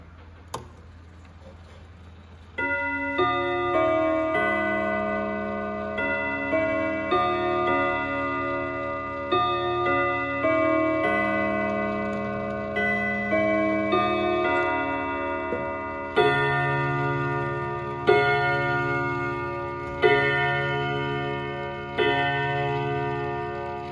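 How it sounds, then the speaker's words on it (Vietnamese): A Jura pendulum clock with an 8/8 chiming movement plays a long melodic sequence of ringing rod or gong strikes. The tones are clear and sustained, with a steady ticking underneath throughout. "mời các bác cùng thưởng thức một chút âm thanh tiếng chuông của chiếc đồng hồ này"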